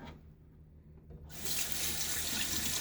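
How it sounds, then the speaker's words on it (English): A bathroom tap bursts on after a quiet moment, and water runs and splashes onto a face while it is being wet before a razor shave. The flow is steady and fairly close. "So water on the face again."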